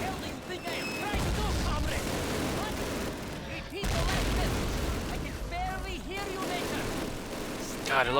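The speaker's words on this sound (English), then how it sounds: "I love the sound of the MG42 in this game" Rapid, continuous MG42 machine-gun fire in Call of Duty rattles in bursts throughout, with brief gaps between volleys and a few faint voices underneath.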